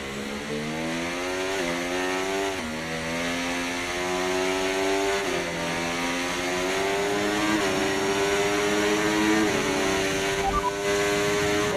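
Race car engine in a racing video game at a Brazil track, a loud, continuous buzzing whine that climbs in pitch through the gears, with repeated brief dips at each shift and no talk over it.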